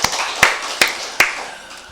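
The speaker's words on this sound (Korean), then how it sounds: "우리 박수를 함께 드리겠습니다" Congregation at an Easter dawn church service clapping together, with three sharp, evenly spaced claps in unison over a faint background hum and no talking.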